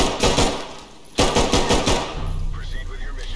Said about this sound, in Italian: Scusa, ti ho sparato 50 colpi